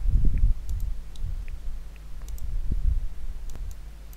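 Keys clatter on a computer keyboard at a Windows Server 2016 Core command prompt, a sparse run of soft, irregular clicks over faint background hum.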